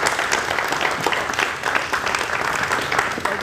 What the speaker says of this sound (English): Let's give Kendrick a round of applause